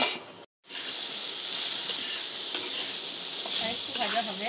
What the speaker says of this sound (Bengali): এটা ঢাকা দিয়ে দিলাম বন্ধুরা, একটু বেগুনগুলো ভাজা ভাজা হোক।